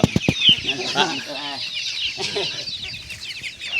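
Several muscovy ducks call and chatter nearby in short hoarse bursts, overlapping one another with some background farmyard noise at a duck farm.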